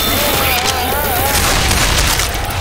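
Rapid gunfire crackles in Left 4 Dead 2 during a Dark Carnival level, dense bursts of shots mixed with impacts and in-game character voices shouting over the chaos.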